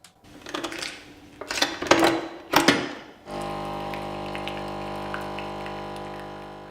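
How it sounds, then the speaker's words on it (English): Several sharp clinks and clatters, then a coffee pod machine whirs into a steady mechanical hum that runs on unchanged to the end. "Next track, we've got the coffee pod machine."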